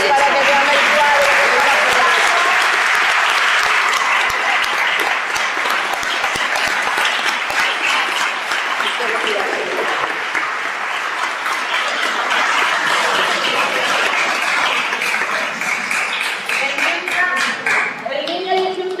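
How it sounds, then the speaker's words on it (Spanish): Audience applause at a book presentation in Gijón, sustained loud clapping from a room full of people for many seconds, with some voices audible over it. "Herminia, pido un aplauso"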